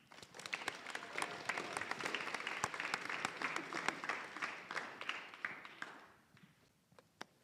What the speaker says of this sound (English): And so today we get to celebrate her film students, but also let's clap for Miss Bassing.